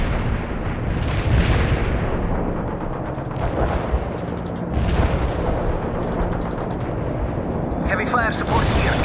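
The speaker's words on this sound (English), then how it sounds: "Heavy fire support here. Intercepting the barrage. Artillery strike." An artillery strike barrage in the World in Conflict strategy game, a continuous loud rumbling roar of explosions that swells several times across the clip, with a voice talking over it.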